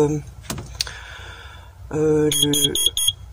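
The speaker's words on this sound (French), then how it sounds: "j'ai obstrué mon détecteur de monoxyde de carbone et il me fait bip bip" A high, sharp electronic alarm from an obstructed carbon monoxide detector in a converted Renault Kangoo van beeps in quick bursts, several short chirps near the end, with a voice and household noise beforehand.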